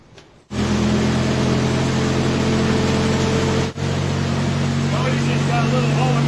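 A forklift engine fires up after a hydraulic cylinder rebuild and settles into a loud, steady idle with a low, even hum that holds throughout, broken by one brief dip partway through.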